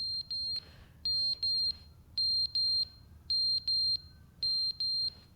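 A beeping alarm in the video game The Stanley Parable Ultra Deluxe sounds as sharp high electronic beeps in pairs, about one pair per second, steady and fairly clear over a faint low hum.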